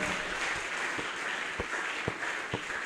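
A church congregation at an Easter service applauds with steady, dense clapping. A few sharper claps stand out from the crowd.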